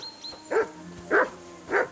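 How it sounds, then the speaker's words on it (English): Dog barking in the medieval game Kingdom Come: Deliverance 2, three evenly spaced, close, sharp barks over a quiet background. "Jesus, Henry, that barking's driving me nuts"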